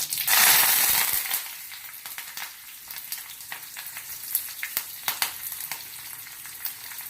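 Curry leaves hit hot oil in a kadhai (wok) already holding popped mustard seeds. A loud burst of sizzling settles into a steadier fry with scattered sharp pops and spatters, close up and without talk.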